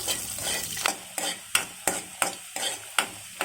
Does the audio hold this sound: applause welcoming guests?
no